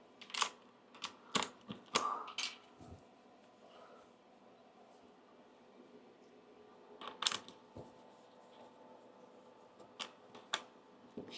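Typing on a freshly cleaned SteelSeries Apex Pro keyboard, quiet clusters of crisp key presses in short bursts separated by pauses, close and fairly faint.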